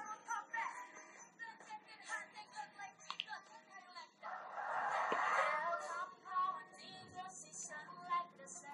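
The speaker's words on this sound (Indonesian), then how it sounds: "Ayam nih ganggu sumpah." Chickens cluck and crow nearby in a busy, uneven stream, with a burst of louder crowing midway; no clear talk stands out.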